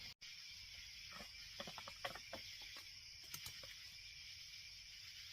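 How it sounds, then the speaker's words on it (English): Faint crickets chirp steadily through a quiet night in a forest camp, with a few soft scattered ticks and pops of falling acorns nearby. "You hear acorns and crickets."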